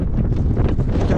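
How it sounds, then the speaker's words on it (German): Strong storm wind buffets a camper van parked at an autumn campsite on Rømø, a loud continuous roar and rumble with constant gusting turbulence and no letup. "es ist der Megasturm draußen"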